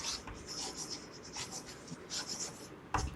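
A marker or chalk writes on a classroom board during a class-6 fractions lesson. The strokes are soft and scratchy, come in a steady rhythm, are quiet and close, and end with a small knock.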